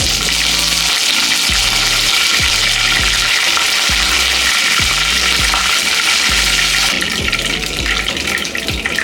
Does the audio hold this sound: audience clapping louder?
no